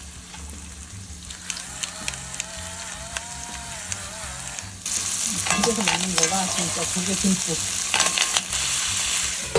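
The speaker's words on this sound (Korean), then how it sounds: "새우를 좀 굽고" Shrimp frying in a home kitchen pan for a pasta dish, a steady sizzle that grows louder and denser midway, with stirring scrapes and someone speaking briefly over it.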